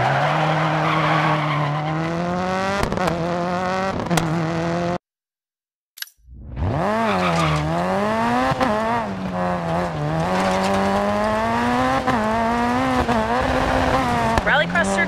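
A rally car in DiRT 4 drives with a loud, sustained engine whine that rises and falls through the gears. Tyres scrabble and slide during a handbrake turn, and the sound cuts out for about a second midway.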